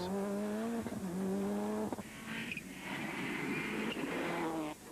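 A rally car at the 2003 NEMC Rallysprint at Punchestown, its anti-lag engine revving hard with a shifting harmonic note, then giving way to a rough, broadband roar of tyres and gravel close by. No one speaks.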